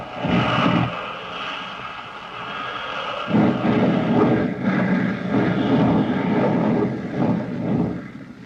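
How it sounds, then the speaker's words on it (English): A propeller airplane engine drones and sputters unevenly, surging in rough bursts as the plane dives, loud and close with no voices. "the motor sputters and coughs"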